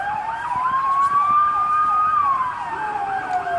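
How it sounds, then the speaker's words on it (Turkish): Ambulance sirens wail loudly and continuously from vehicles stuck in blocked traffic, one rising-and-falling tone layered over a second siren, with road noise underneath. "ambulansların nasıl geçemediğini, nasıl kilitlediklerini yolu ve insanların şu anda yuvalamasını duyuyorsunuz"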